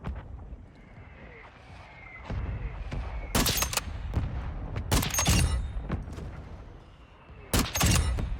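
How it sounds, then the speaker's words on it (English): Mortar strike explosions in the video game Call of Duty Warzone: several loud, booming blasts land in bursts, with sharp rumbling impacts and scattered gunfire-like cracks in between. "Mortar strike inbound."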